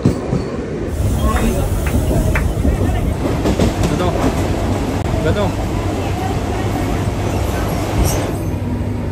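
A Mumbai local train rumbles steadily nearby at Mahalaxmi station with dense low-frequency noise and rail clatter, while people talk over it throughout.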